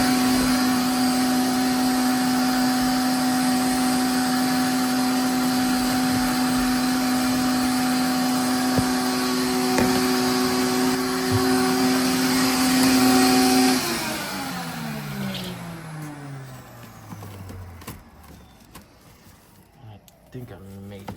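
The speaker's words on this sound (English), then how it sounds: "go ahead and vacuum some of this up" A shop vacuum sucking up brittle debris inside a 1983 BMW 633CSi, a loud, steady whine that runs for about fourteen seconds, then winds down and falls away, with scraping and rattling afterward.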